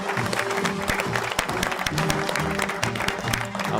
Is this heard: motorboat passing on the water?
no